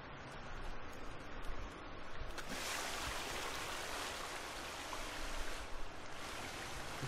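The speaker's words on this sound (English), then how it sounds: "You can hear a lot of water." A forest stream flows with a steady, broad rush of water that stays close and even throughout, with no voices over it.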